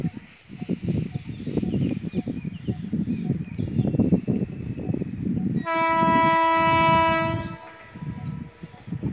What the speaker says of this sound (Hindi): चलिए ये सलकर रोड रेलवे स्टेशन में यहाँ से मालगाड़ी गुजर रही है।